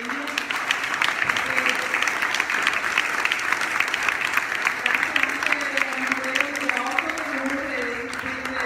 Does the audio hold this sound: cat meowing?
no